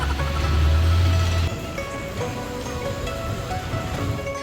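Rain falls outdoors on a Hong Kong street, a steady dense hiss of drops spattering on surfaces, loud and continuous with a heavier low rumble at the start and no speech.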